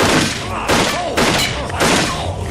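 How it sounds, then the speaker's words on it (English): Gunfire in a Batman audio drama: loud, booming shots come in three or four heavy bursts over a dense, noisy action backdrop. "You dare threaten Azrael with a firearm, as if bullets could harm him."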